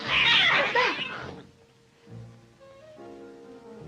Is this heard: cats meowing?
yes